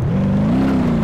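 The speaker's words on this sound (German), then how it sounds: "Jetzt nochmal Gas geben." A car in BeamNG Drive accelerating on the Mt. Shell course, its engine droning steadily and rising slightly in pitch, loud and close.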